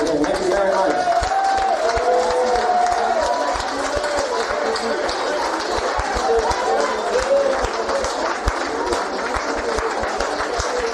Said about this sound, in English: Everyone give a round of applause to Jackie again.